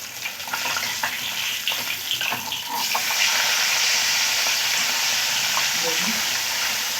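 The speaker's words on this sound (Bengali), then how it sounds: "আমার এক পাশটা ভাজা হয়ে গেছে, উল্টিয়ে নেব" Fish frying in a pan, one side done and about to be turned, giving a steady hiss and sizzle of hot oil with occasional clicks and scraping, heard close and fairly loud throughout.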